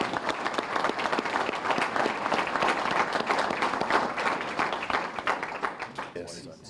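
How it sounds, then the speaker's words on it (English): A rodeo crowd at a Fiesta Days event gives sponsors a long round of applause, dense clapping filling the arena for several seconds before thinning out at the end. "let's give all of those sponsors a big round of applause"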